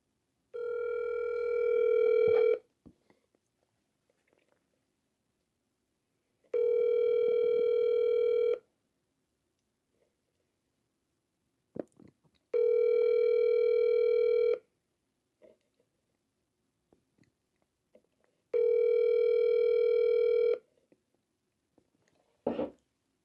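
Four repeated ringback tones on a telephone line while calling a seller back, each burst about two seconds long and separated by several seconds of near silence, with faint clicks between rings.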